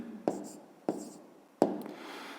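A pen writes an answer on paper in three short, quiet strokes with brief scratching between them, close by.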